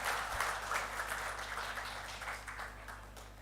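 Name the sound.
audience applause at a conference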